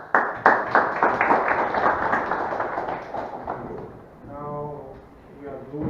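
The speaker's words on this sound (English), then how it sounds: "Let's make again applause." Conference audience applause with distinct claps, strongest at the start and gradually thinning, while a voice speaks faintly toward the end.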